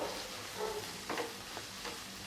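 Vegetables stirred and sautéed in a pan while making white sauce pasta: a faint, steady sizzle with a few soft scraping stirs, no talking.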